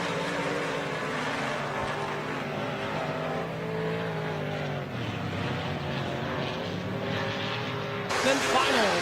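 Modified race cars at RPM Speedway during a heat race, engines roaring steadily together at a distance with pitch sweeping as they round the turns, under continuous crowd and track ambience.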